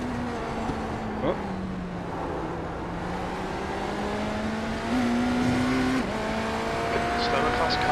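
Race car engines drone in a Le Mans endurance racing video game, with a steady high-pitched whine that climbs and dips through gear changes. Someone talks over the engine noise at times.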